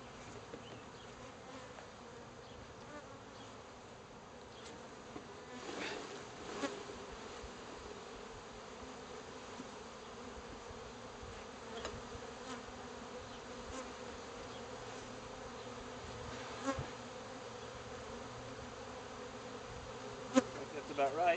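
A steady, low buzzing of many honeybees in a mason jar with a sifter lid, faint and continuous, with occasional louder bumps and clicks against glass.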